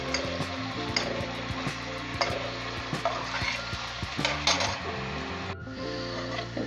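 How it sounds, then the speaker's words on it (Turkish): Onions sautéing in a pan until pink for a Turkish chickpea and meat stew, giving a steady close sizzle with frequent stirring scrapes and light clinks of utensil against cookware, with no talking. "Sevgili izleyenlerimiz soğanlarımızı pembeleşinceye kadar kavurdum."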